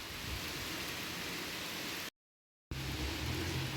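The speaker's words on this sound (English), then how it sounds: "It is still raining quite a bit" Steady rain falling outside, a dense, even hiss that fills the clip apart from a brief cut to silence midway, with no voices.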